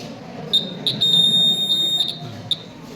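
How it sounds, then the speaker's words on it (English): An electronic earthquake alarm buzzer on a science exhibition project sounds in short high-pitched beeps, then holds one steady tone for about a second, with a final brief beep, over low background hum. "We know that there will be an earthquake because the buzzer sounds"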